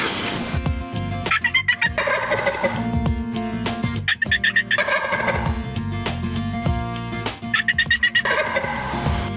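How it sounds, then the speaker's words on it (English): Wild turkeys gobble again and again on a hillside during a hunt, loud rattling calls coming in several bursts between quieter clucking, with no one speaking. "They get up on top of the hill, they start gobbling again."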